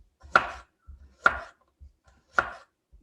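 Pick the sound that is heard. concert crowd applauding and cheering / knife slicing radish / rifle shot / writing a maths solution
knife slicing radish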